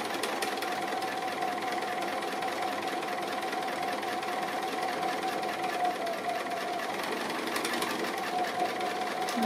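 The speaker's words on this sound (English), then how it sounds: "So I think I'll just keep going because it's all quite straightforward sewing now." A sewing machine stitches appliqué around a playroom motif, running continuously with a steady close mechanical whir and rapid needle rhythm throughout.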